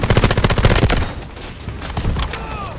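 Rapid automatic gunfire from the video game Delta Force, loud and close, bursting steadily for the first second, then sporadic shots and game effects that continue under a busy background.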